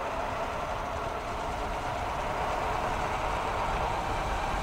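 A Bandit 48-volt electric moped runs at full throttle, giving a steady, loud, continuous rush of wind and road noise with a low rumble that stays constant throughout, with no voices.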